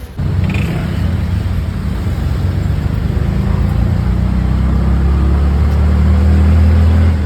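A steady, loud motor engine drones throughout, with a constant low rumble from riding inside a motorized tricycle heading to Baclaran.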